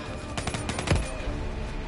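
Gunfire in a video game campaign mission, a quick volley of several sharp shots in the first half with bullets whizzing past, then a lingering rumble as the firing stops.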